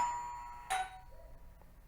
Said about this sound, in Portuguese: vocês acabaram de escutar a campainha